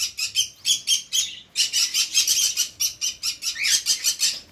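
Lovebirds and other birds in an aviary chirp and call continuously, bright rapid tweets in dense repeating bursts, close and loud with no talk.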